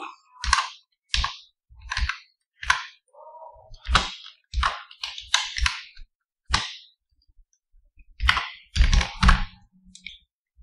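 Crisp, isolated keystrokes on a computer keyboard tap out a short phrase in an irregular rhythm, close and clear against a silent background, with a quick burst of several keys near the end.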